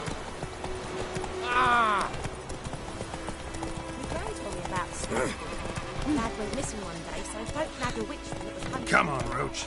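Horse hooves clattering in a steady gallop in The Witcher 3, up close, with game music and a voice talking over the hoofbeats.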